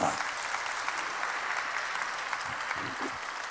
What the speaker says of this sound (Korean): 믿는 사람은 박수야